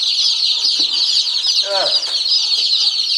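A crowd of baby chicks newly arrived on a farm peeps steadily in a high, shrill, continuous chorus, close and loud, with a brief voice speaking in the middle.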